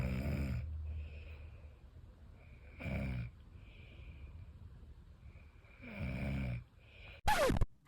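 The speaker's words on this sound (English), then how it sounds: "Snoring is simply just not normal" A sleeping person snores in three loud, rasping inhalations spaced a few seconds apart, with quiet breathing between them.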